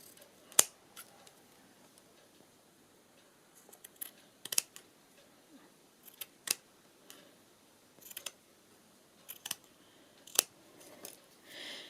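Scissors snipping paper while a collage book is assembled, heard as a scattering of quiet, sharp clicks and snips at irregular intervals over a soft background.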